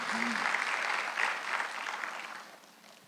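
A church congregation applauds together in a steady, dense round of clapping that slowly tapers off, with a faint voice briefly audible near the start.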